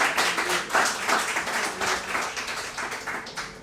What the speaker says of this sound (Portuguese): Quem aplaudir, aplauda o Senhor.